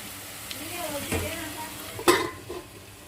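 Masala frying in oil in a pan, a continuous soft sizzle with occasional stirring clinks and scrapes of a utensil against the pan, one sharper knock near the end.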